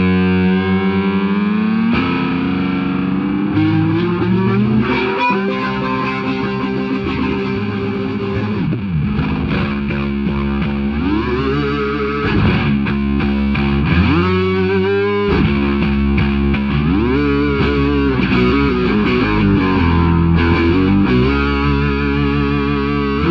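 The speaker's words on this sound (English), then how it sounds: "I like to turn this pitchfork on, do some pitch bending, make it sound real wild." A bass guitar played through a Pitchfork pitch-shifting pedal with an expression pedal, producing wild, distorted notes that bend and swoop up and down in pitch continuously for over twenty seconds, loud and unbroken.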